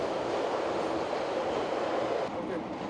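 A London Underground tube train gives off a steady, dense rumble and rush of noise that holds at a constant level throughout, with no clear voices on top.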